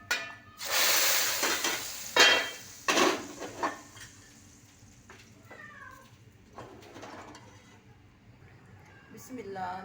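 Garlic and cumin tarka hits masoor lentils with a loud, bright sizzle in a burst of hissing crackles over the first few seconds, then fades to a softer simmer with faint kitchen clatter and a voice.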